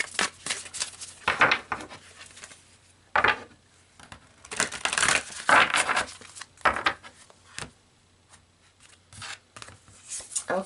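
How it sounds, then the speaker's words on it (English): Tarot cards are shuffled, drawn and laid down in a close, dry stream of riffling, sliding and tapping sounds that come in bursts with short quiet gaps between them. "So let's draw 2 more cards here."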